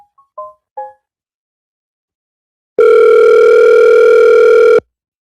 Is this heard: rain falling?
no